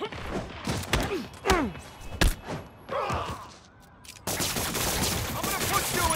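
Enemy thugs fire at Spider-Man in Spider-Man Remastered: scattered loud gunshots and thuds crack through the fight, with grunting voices mixed in, then a steady wash of heavier fire and noise.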